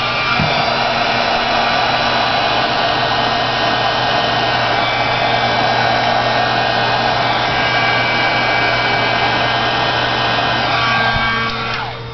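A handheld dryer blows steadily and loudly on an accordion die assembly, a constant close whooshing hum with a fixed motor whine that runs nearly unbroken before tapering slightly at the end.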